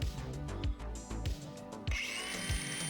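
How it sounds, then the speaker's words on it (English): An angle grinder bites into car body metal during an R32 engine swap, its high whine rising and dropping in short, careful passes with rough bumps as the disc contacts the steel. "just getting in there with the grinder, being nice and careful not to overshoot and take too much metal out"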